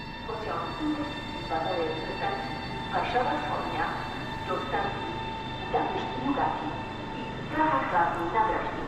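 Passenger train ED 250 from Gdynia to Kraków pulling away in winter, with a steady rumble and rising mechanical tones, repeated surges of wheel and motor noise, moderately near, with faint voices in the background.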